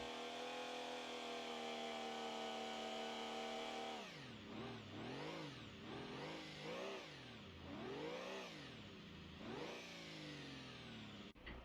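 A tuned diesel car engine in the driving game BeamNG.drive idles with a steady drone, then revs up and down repeatedly in a series of rising and falling sweeps, loud and close with no talking.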